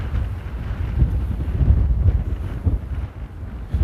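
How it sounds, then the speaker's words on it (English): Strong wind gusting at Amsterdam Airport, a steady loud low rumble of wind buffeting the microphone with surges and dips throughout and no talking. "oh wow, the wind is really picking up."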